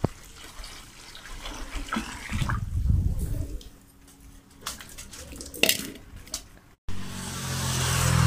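Hot water is poured into a cattle feed mix of rice water and vegetable scraps in a village yard, then stirred. Splashing and sloshing build and fade, with a few knocks of a pot, close by and fairly loud.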